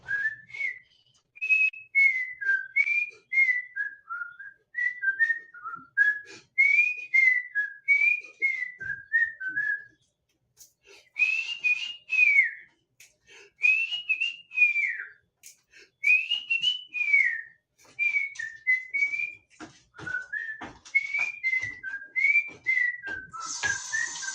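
Whistled melody of a theme song, a clear tuneful run of short phrases repeated in steady bursts with brief pauses, close and fairly loud with no talking.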